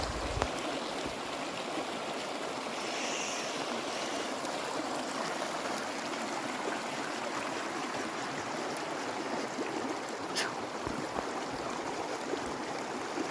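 Meltwater from melting snow runs in a steady, close stream near a lake, making a continuous broadband rush with no pauses throughout.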